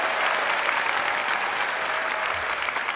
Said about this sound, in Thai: ขอเสียงปรบมือคุณแม่ด้วยครับ